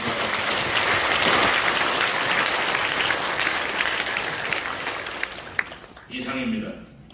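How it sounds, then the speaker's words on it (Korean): Congregation applauding at a Christian Council of Korea inauguration thanksgiving service: loud, sustained, dense clapping for about six seconds, which ends abruptly as a voice comes in. "우리 서로 감사하는 의미에서 박수 한번 쳐주시기 바랍니다"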